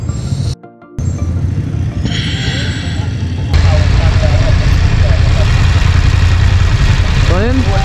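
A police motorcycle engine idles nearby, a steady low rumble running the whole time beneath outdoor street noise, with people talking over it.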